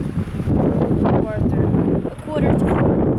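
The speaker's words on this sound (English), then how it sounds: "It's a bit windy, but it's good." Gusty wind at a beach buffets the microphone in a steady low rumble throughout, with a brief lull near the middle, while voices talk over it.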